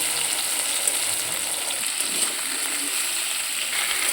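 Vegetables frying in hot oil in a wok with onion, tomato, chilli and garlic paste, a continuous bright sizzle with faint stirring movement and no voices.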